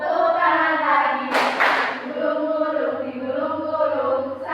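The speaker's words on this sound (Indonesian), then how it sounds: "Buka tutup bertepuk tangan" Children clap their hands along to a sung children's song, a short burst of claps in the middle under continuous singing voices.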